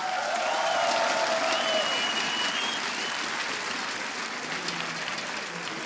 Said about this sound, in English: So please, round of applause for both our teams